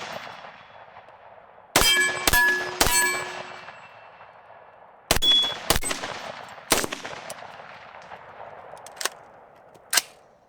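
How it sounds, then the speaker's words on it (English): Pistol shots fired in quick succession from a UUQ Eagle C28 SRO-style handgun at a range, sharp loud cracks with ringing metallic tails, some grouped tightly, others spaced apart, alone without talk. "let's just do some rapid firing here"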